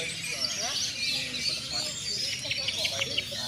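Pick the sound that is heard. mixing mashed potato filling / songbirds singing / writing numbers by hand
songbirds singing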